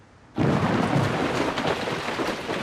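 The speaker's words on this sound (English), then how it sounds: "Oh no, it's a thunderstorm." A sudden loud crash of thunder that rolls on into a dense, roaring wash of noise like heavy rain.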